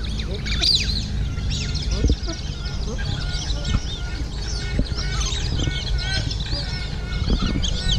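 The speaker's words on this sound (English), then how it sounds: "we just have to start with all these bloody birds following her" A flock of birds crowds around a person at a wildlife sanctuary in Australia, giving constant chirps and calls, while people talk over the busy chatter.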